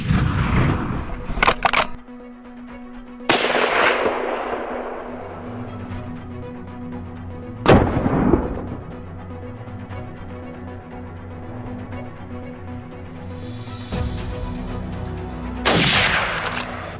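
Gunshots during a baboon hunt: four sharp, booming reports at irregular intervals, each with a short decaying tail, loud over a steady low hum.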